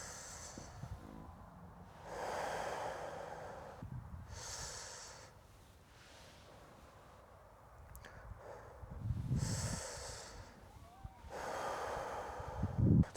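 Slow, deep qigong breaths during a belt-channel exercise for lower back relief: long airy inhales and exhales in a regular cycle, close and soft, with faint snorting nasal breaths.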